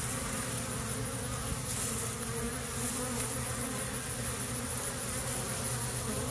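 Dense, continuous buzzing of many honeybees around a queen, close and steady throughout with no talking.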